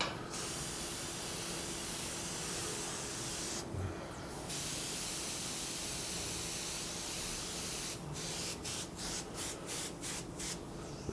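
A simple spray gun applies lacquer finish in a steady, close, continuous hiss, broken by a brief pause and then by several short, rhythmic interruptions near the end as the trigger is released and pressed again.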